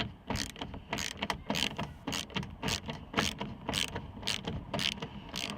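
Socket ratchet clicking rapidly and rhythmically as a bolt is backed out of the window regulator on a 2003-2007 Chevrolet Silverado, close repeated bursts of ratcheting with no speech.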